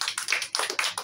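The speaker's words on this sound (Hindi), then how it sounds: "उनके लिए थोड़ी तालियाँ हो" An audience at a book discussion gives a short, quick round of hand claps, close and fairly loud, with no voices.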